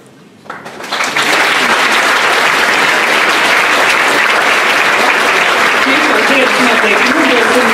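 Applause from a large audience at a school alumni reunion, honouring teacher Arnis Kubliņš, rising quickly after a quiet start into steady, dense clapping that continues loud and sustained to the end.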